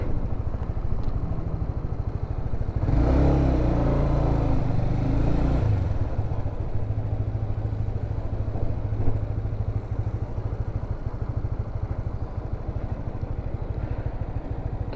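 A motorcycle engine idles with a steady rumble, surges louder for a few seconds as the bike moves off, then settles back to a low idle.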